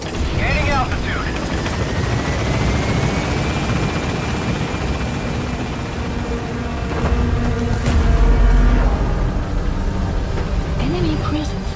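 Sustained rotor and engine roar from the B-Quad support helicopter climbing in Metal Gear Solid V, loud and continuous, swelling briefly near the end, with a radio voice speaking over it.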